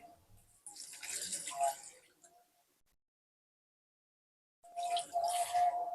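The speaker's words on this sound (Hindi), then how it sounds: "पानी डालेंगे।" Water poured into a cooking pot of chicken Lahori nihari, coming in two splashing bursts separated by a short silence, close and moderately loud.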